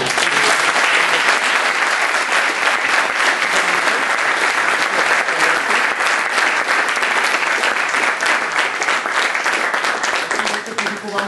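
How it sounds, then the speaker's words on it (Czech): Sustained, dense applause from a large audience at a business inspiration conference, clapping steadily and loudly for two guests with no break across the whole stretch. "Bylo to velké poděkování a potlesk pro oba naše hosty."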